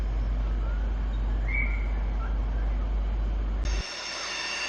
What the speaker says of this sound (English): This is an NGR train coming in to Petrie.